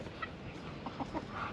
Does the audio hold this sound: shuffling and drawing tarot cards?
no